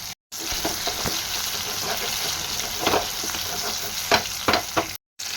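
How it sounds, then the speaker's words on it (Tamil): Potatoes fry in oil in a pan for aloo bhorta, a loud steady sizzle that runs throughout, broken by short stirring and scraping sounds and two brief dropouts. "இந்த அளவுக்கு நம்ம நல்லா பொரிச்சு எடுத்துக்கணும்"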